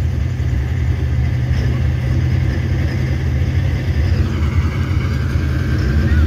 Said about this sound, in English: What a combination on this one. Twin turbo, diesel.